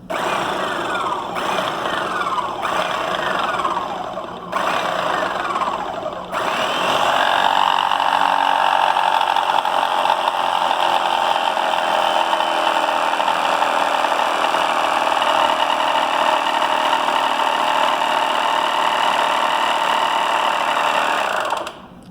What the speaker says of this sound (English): we're going to put them to some very high pressure in the hydraulic press